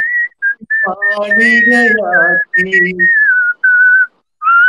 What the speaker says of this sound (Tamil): நீங்க அப்படியே விசில் பண்ணுங்க